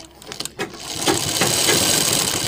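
A sewing machine stitches a collar onto a garment neckline: a few short starts, then a steady, close mechanical whir that holds evenly to the end.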